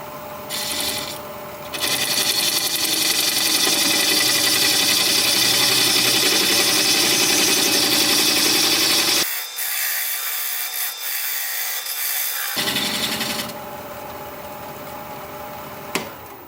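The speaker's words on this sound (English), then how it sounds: "I'm going to use my parting tool now to mark the point where I want to cut this off when I'm done." A parting tool cuts a marking groove into a wooden vase spinning on a wood lathe, giving a loud, steady scraping rasp that runs for several seconds, stops briefly, then resumes with the lathe's motor hum underneath.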